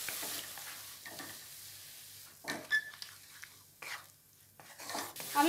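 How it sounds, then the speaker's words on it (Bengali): Ground spice masala with a little water being stir-fried in a pan for bhindi do pyaza, a faint soft sizzle with intermittent spoon scrapes and stirring strokes, quiet and close. "এবার আমি দিয়ে দিচ্ছি গুঁড়ো মশলাগুলো, সামান্য একটু জল দিয়ে এবার ভালো করে কষিয়ে নেব।"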